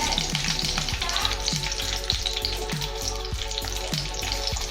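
Green chillies sautéing in oil for a Kerala-style Malabar biryani, a dense steady sizzle broken by regular scraping strokes of a spoon against the pan, close and unaccompanied by talk.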